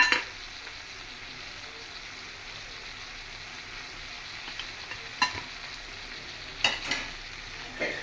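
Mutton liver curry with garam masala and coriander powder being stirred in a pan, a quiet continuous sizzle broken by a few sharp scrapes of the spoon.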